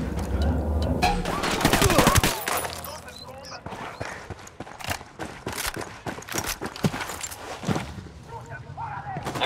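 Repeated sharp gunshots and automatic bursts in Ghost Recon Wildlands, loud and near, cracking irregularly across the whole stretch while a voice speaks between shots.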